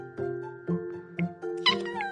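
A kitten in a PSVR virtual-reality game meows several times in quick, short, clear bursts, the last one higher and more drawn out, close and alone without talk.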